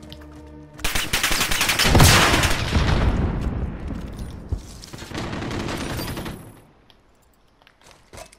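Gunfire in Call of Duty Modern Warfare comes as a loud, dense burst of rapid automatic shots mixed with heavier blasts and runs for several seconds before dying away into quieter, scattered shots near the end.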